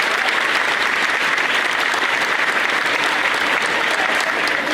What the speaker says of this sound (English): Let's give them a round of applause for their hard work this year.